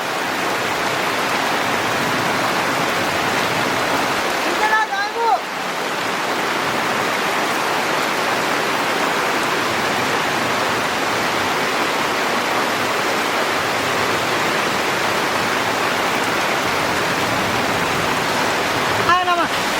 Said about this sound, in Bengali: প্রচন্ড বৃষ্টি নেমে গেছে।